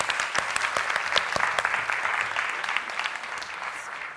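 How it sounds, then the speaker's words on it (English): An audience at a FameLab science-communication semi-final applauds a presenter, a steady roomful of clapping with some sharp nearby claps, easing slightly toward the end. "Another torrent of pure applause, please,"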